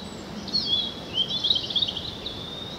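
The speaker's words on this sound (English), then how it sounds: "robins singing merrily there somewhere." A robin sings a bright, high warbling song in several short phrases, fairly clear against a quiet outdoor background near Hunstanton Hall.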